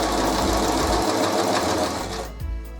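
A sewing machine stitches an invisible zipper in a steady, loud, continuous run, its motor whirring and needle pounding rapidly, then slowing and easing off near the end.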